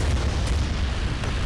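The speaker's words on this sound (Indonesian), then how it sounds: "Gue pengen coba ngedrop bom." Heavy bomb blast dropped by a Tu-160 bomber in a video game, a loud sustained low rumbling roar filling the whole moment with no voices over it.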